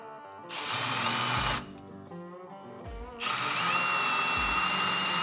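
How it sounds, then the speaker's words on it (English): A power drill with a 25/64 bit whines loudly in two bursts, a short run and then a longer one, with a lower mechanical hum between them. "you're gonna wanna drill it with the included"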